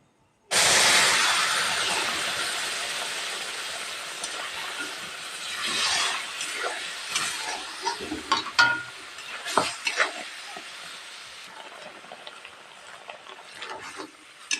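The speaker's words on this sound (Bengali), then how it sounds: "এখন এর মধ্যে দুধ দিয়ে দিব" Milk poured onto fried semolina in a hot pan bursts into a loud hissing sizzle that slowly fades, followed by clattering stirs and scrapes of a spoon against the pan, close up, no talk.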